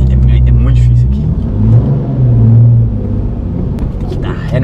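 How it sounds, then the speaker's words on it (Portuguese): A Nissan 370Z engine rumbles and revs close by while reversing up a ramp, the low drone rising and falling under loud conversation. "Tem que dar ré no meio da rampa."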